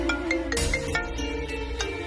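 A phone rings with a melodic ringtone during a Tamil TV serial scene, a call from the hospital; a short sequence of bright, repeated musical tones plays loudly and alone.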